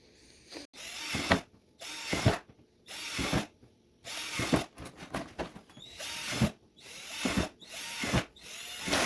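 A power drill boring air holes into a plastic tank for a red wiggler worm bin, sounding in repeated short bursts of loud whirring and grinding separated by brief pauses, with no talk.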